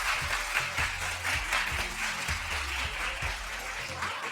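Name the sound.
studio audience applause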